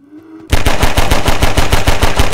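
Automatic gunfire in the game Half-Life 2, a loud rapid burst of evenly spaced shots that starts abruptly after a brief quiet moment and continues without a break.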